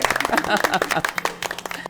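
Applause from a studio audience on a Kannada television game show, lively clapping running through the full two seconds with talk mixed in over it.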